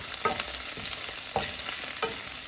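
Garlic sizzles and crackles in a hot frying pan with onion while a utensil scrapes and stirs in a loose, repeating rhythm, close up.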